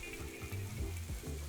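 Vegetables sizzling in a covered pan, with a soft, steady fry hiss, faint clinks and low bubbling underneath, close and quiet, no talk.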